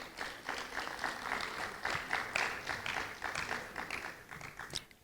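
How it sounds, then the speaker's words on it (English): Audience applause for student debaters at a junior school debate competition, a steady wash of clapping from a crowd lasting several seconds with no talk over it. "A round of applause for the debaters on stage."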